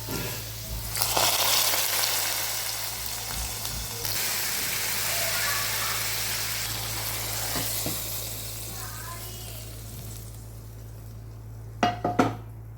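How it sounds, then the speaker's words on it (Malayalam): Garlic and shallots frying in hot oil for a drumstick (moringa) curry, moisture making them splutter: a dense close sizzle that gradually fades, ending with a few clattering pan knocks around twelve seconds over a low steady hum. "വെള്ളത്തിൻ്റെ അംശമുള്ളതുകൊണ്ട് അങ്ങനെ പൊട്ടിക്കറിക്കുന്നത്"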